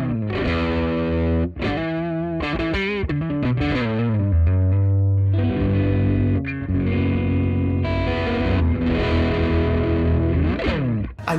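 Electric guitar through a limited edition Marshall DSL 402 2x12 combo amp, played loud with heavy distortion and a chorus-like shimmer, mixing sustained chords and lead bends continuously with no speech.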